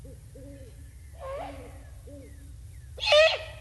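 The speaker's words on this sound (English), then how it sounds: "you've probably been hearing this hooting sound on a regular basis" Deep, soft great horned owl hoots repeat in a slow rhythm, with a couple of harsher, louder raspy calls breaking in.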